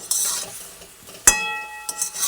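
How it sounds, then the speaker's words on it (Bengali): Mango pieces dusted with Kashmiri chili powder are stirred for ring pickle, giving soft scraping and a single sharp metallic clink of a utensil against the pan partway through. "কাশ্মীরি লঙ্কার গুঁড়ো ছড়িয়ে দিলাম আগে তো নুন দেওয়াই ছিল একটু ভালোভাবে নাড়াচাড়া করে নিচ্ছি"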